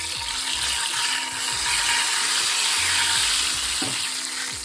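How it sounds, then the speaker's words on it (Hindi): Green chillies and red chilli being mixed in a pan for tadka: a dense, loud, hissing sizzle with rhythmic scraping and clicking of a spoon against metal, no voices. "और अच्छी तरीके से जो है हमने इसको मिक्स कर लेना है।"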